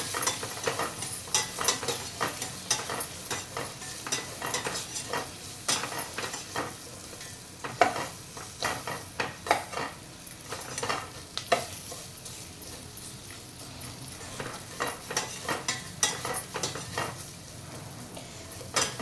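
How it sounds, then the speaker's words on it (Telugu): Bottle gourd frying with turmeric in a pan, stirred with a utensil that scrapes and clinks against the metal in irregular bursts over a steady low sizzle, close and moderately loud, with no talking. "ఒక్కసారి ఇలా ఫ్రై చేద్దాం మనం."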